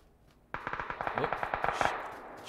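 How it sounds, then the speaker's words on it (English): Rapid automatic gunfire from the video game PUBG bursts in suddenly and keeps going, about a dozen sharp cracks in a quick irregular string, loud and fairly close, with no voices over it. "Shots beyond the compound, I think."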